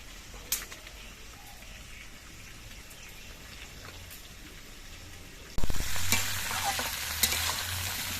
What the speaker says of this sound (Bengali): এবার নেড়ে চেড়ে সবজিগুলো কিছুক্ষণ ভেজে নিতে হবে